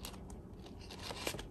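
Metal art-supply scissors handled close by, giving soft clicking snips and rustling scrapes over quiet room noise.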